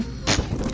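A racing car in the game Screw Drivers slams into a tree, giving a single short, dull thunk that rises sharply and quickly fades.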